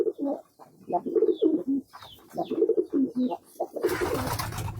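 Several pigeons on a pigeon farm give close, rhythmic cooing phrases one after another. Near the end a burst of broadband rustling or flapping noise cuts in over the calls.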